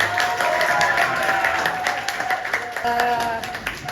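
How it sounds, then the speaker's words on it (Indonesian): A classroom of students claps for the winning team after a game, a scattered, moderately loud burst of hands mixed with chatter and room noise. "Beri tepuk tangan untuk kelompok."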